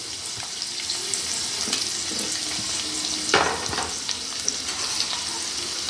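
Onion and garlic fry in a pan for a tomato fish curry, a close, steady crackling sizzle with a brief louder burst of splattering midway and light stirring.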